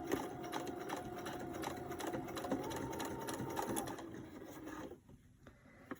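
A sewing machine runs steadily, stitching the seam of a fabric face mask with a fast, even mechanical whir for about four seconds before stopping, followed by quieter handling sounds.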